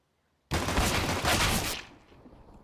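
Gunfire in a Counter-Strike match, a sudden loud dense burst of rapid shots lasting over a second before cutting off into a fading tail.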